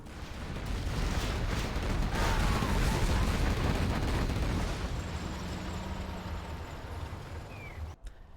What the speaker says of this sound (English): Artillery coming across